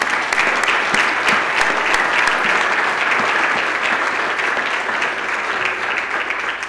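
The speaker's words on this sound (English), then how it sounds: "let's give him a round of applause." A crowd claps steadily for several seconds, dense, sustained applause with no voices standing out.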